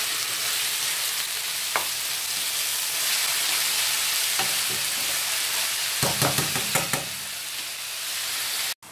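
Beef filling for a Malabar meat cake cooking in a covered pan, giving a steady, even sizzle with a few faint clicks and pops toward the end.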